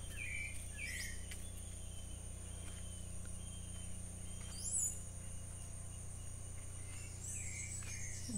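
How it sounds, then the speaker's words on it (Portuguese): Faint, steady high-pitched drone of cicadas singing in the distance among cashew trees, with a few brief bird chirps over a low background hum. "E se ouve o canto das cigarras."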